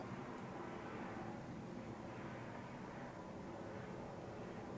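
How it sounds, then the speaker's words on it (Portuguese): An airplane passes overhead as a steady, broad roar that fills the whole stretch without fading, heard alone with no talking. "Vai, avião, passa logo."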